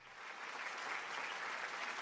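A short, steady burst of crowd applause, dense clapping and cheering at an even level, playing as an effect with no voices over it.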